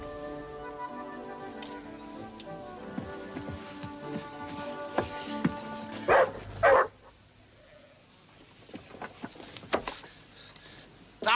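A dog barks in a scene from the veterinary drama All Creatures Great and Small, giving a few sharp, loud barks midway through over a steady background of music and room sound.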